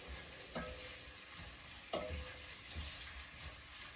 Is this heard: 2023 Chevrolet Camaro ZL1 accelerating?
no